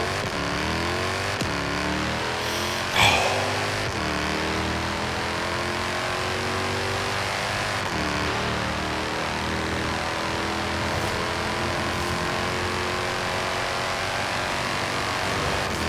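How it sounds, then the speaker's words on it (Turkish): Mercedes-Benz E63 AMG accelerating hard on a busy road, its engine note rising through several gear changes with clear shift breaks, steady and close throughout with no talk. "Vallahi bak çok hızlı araba İnanılmaz hızlı abi"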